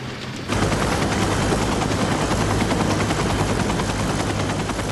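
A loud, steady rotor chop of a SkyMed medical helicopter starts abruptly and continues close and unbroken, drowning out everything else.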